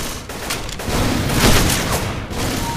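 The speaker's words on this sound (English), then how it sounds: "we gotta shoot it to cut out the turbine" Gunfire in the Left 4 Dead 2 video game on a custom map, a dense, loud fusillade of rapid overlapping shots and booms that continues without a break and carries no voices.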